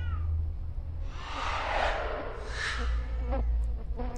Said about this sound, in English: These cat noises and like growls and they're all annoying.